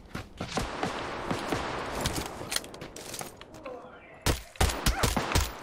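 Bursts of rapid gunfire in the shooter video game PUBG Lite, sharp cracking shots in quick volleys with brief gaps, rising to loud close bursts near the end.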